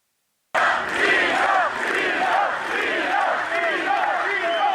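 A large concert crowd at the Live Arena in Agrigento cheers and roars, a dense, sustained wash of voices starting abruptly after a brief silence.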